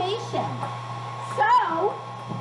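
A hair dryer blowing steadily with a constant motor hum and airflow rush, a ping pong ball floating in its stream, while a person talks over it.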